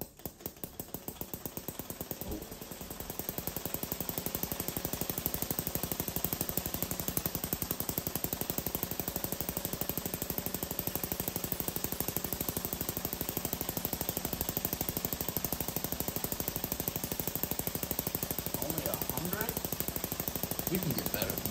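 A homemade air-powered engine fitted with a 3D-printed propeller runs fast and loud, giving a dense, buzzing rattle that starts up and then holds steady for about twenty seconds, alone without talk.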